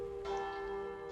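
A church bell struck once in the video game Sniper Elite Resistance, a faint, steady ringing tone that hums on briefly after the strike.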